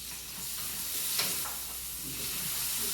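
Garlic being stirred into hot roasted Yukon Gold potatoes, giving a soft, continuous sizzle with light scraping stirs, close and fairly quiet, with no talking.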